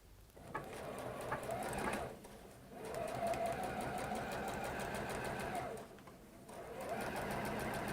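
A quiet, smooth-running sewing machine stitches a seam in a home workshop, humming steadily in long runs broken by two brief pauses.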